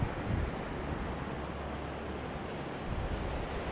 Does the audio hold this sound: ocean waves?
yes